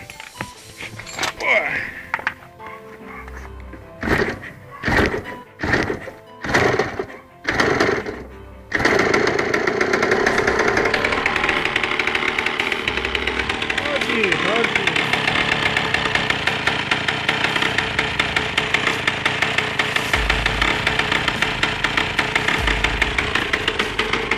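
A Yamaha DT 80 LC motorcycle fitted with a TZR 125 two-stroke engine is kicked over in several short attempts, then catches and settles into a steady, buzzing idle, close up and loud throughout.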